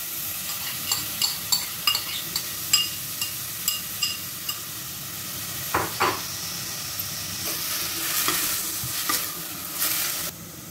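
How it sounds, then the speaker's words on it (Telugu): Bottle gourd roasting in ghee in a pan while being stirred, with a steady sizzle and a rhythm of repeated scraping strokes, then a louder, hissier frying stretch near the end; no one speaks. "పచ్చిదనం వెళ్ళేంత వరకు ఘీలో సోరకాయని రోస్ట్ చేసుకోవాలి."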